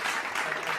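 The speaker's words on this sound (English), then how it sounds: "Round of applause to Foyson." Dense, continuous audience applause from an event crowd, steady and fairly loud throughout the short stretch.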